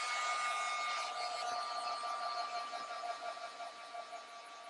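A heat tool blows steadily to set ink on a mixed media card, a loud, even rush of air that fades slightly toward the end.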